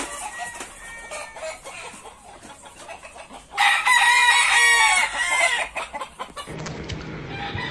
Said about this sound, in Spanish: Buena gallina esa.